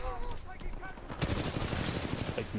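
Rapid automatic gunfire from the video game Titanfall rattles in dense bursts, growing louder and continuous after a brief quieter start, with voices faintly mixed in.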